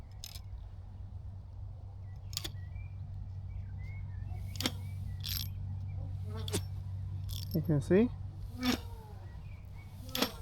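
A pocket-size DIY spinning flint and steel fire starter, wound up and pulled by its strings, gives a steady low whirring buzz throughout, with sharp clicks and scrapes over it while a person talks.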